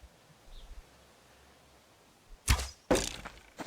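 An arrow fired in the Subsistence survival game strikes a tree twice in quick succession, two sharp thumping impacts with a crackling break, loud and close after a quiet lead-in.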